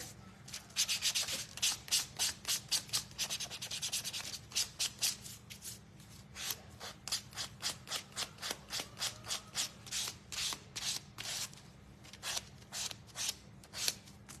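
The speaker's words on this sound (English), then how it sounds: "And then I'm going to sand just a little." A small wooden gnome craft piece being hand-sanded lightly, with steady rhythmic back-and-forth rasping strokes, close and clear, pausing briefly midway before resuming.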